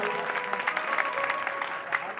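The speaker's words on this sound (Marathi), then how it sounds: "एका आपल्या बाबासाठी जोरदार टाळी." An audience claps loudly for Baba at a Marathi stage performance, a dense, steady patter of hands with a sustained tone and voices mixed in.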